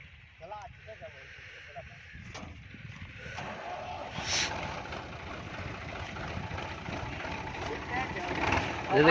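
Farm tractor engine running steadily while being driven through a village field at wheat sowing, a low continuous rumble that builds slightly, with someone talking over it.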